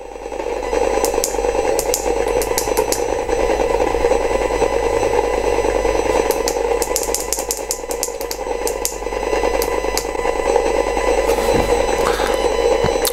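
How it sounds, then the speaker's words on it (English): A WAM-108T RF bug detection device gives off repeated short electronic beeps in uneven bursts over a constant background hum and faint rattling, sounding close and alone with no voices. "So it gives you a beeping sound"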